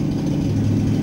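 A Ford F100 truck engine idles high, with the carburetor idle turned up, making a steady, close, loud low rumble without a break.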